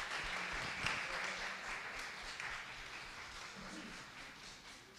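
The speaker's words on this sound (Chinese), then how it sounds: "那我们一起拍手欢迎他们" A church congregation claps together in welcome for visiting worshippers, a continuous soft wash of applause that sounds a little distant and holds steady throughout.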